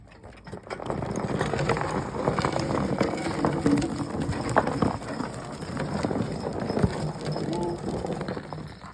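Steady clip-clop of two working horses' hooves on a hard surface during logging, a continuous patter under a low rumbling background, with no voices clearly heard.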